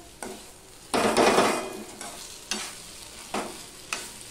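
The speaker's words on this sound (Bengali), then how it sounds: "সমস্তটা মিশিয়ে নিয়েছি। এটা কিন্তু নাড়তে হবে, না হলে তলা পাকিয়ে যাবে" Okra curry thickened with rice paste frying in a pan and stirred with a spatula, giving a close, steady sizzle, a burst of louder frying noise, then a few distinct scraping strokes against the pan bottom.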